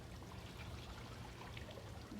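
Hydrogen peroxide poured through a funnel into a cup, a faint steady trickle and stream of liquid running continuously at close range with no talk.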